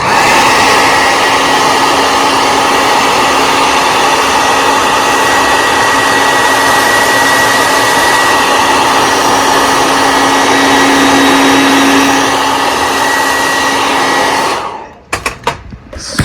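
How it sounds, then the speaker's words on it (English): A blow dryer heating a leather sheath to waterproof it runs loud and steady with a constant whine for a long stretch, then cuts off abruptly, followed by a few clicks. "you just take the blow dryer to it a little longer"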